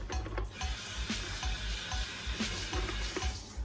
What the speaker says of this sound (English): Let me go wash my grater.